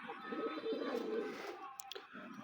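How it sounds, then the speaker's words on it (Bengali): A racing pigeon gives a soft, low cooing call, a short burst of throaty coos heard faintly and close by with no talking. "আমার কবুতর রেসার কবুতর"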